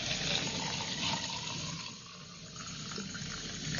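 Liquid pours steadily into a paint mixing container while refilling it for a 1:1 paint mix during a scooter repaint, with a continuous close gushing, splashing flow throughout and no talk.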